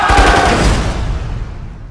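A battle scene from the film The Hunger Games: Mockingjay Part 1 erupts with a loud, booming burst of gunfire and explosion that rolls and fades away over about two seconds.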